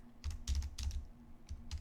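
Quick, irregular bursts of keystrokes clatter on a computer keyboard near a desk microphone, soft and close with a faint low hum underneath.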